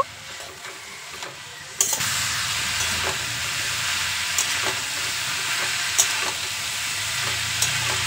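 Pointed gourd and potatoes fry in fish oil with salt and turmeric in a pan, giving a steady close sizzle with repeated spatula scrapes and stirs at irregular intervals.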